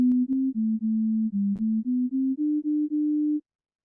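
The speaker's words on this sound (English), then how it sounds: "It's a pure tone with a little bit of an envelope on it, something a bit like a clarinet." A synthesized pure tone with a slight envelope gives a clarinet-like timbre, played alone as a steady note stepping through small pitch changes in separate pulses for about three and a half seconds, then silence.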